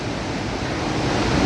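Fast-flowing river water on the trek route to Kedarnath rushes in a loud, steady, broadband roar close by, with no voices over it.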